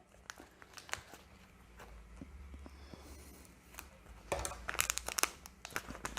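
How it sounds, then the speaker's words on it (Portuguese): Plastic piping bag for a homemade cake being cut and handled, close crinkles and sharp snips scattered throughout, growing busier and louder toward the end. "vou cortar um pouquinho mais a minha manga"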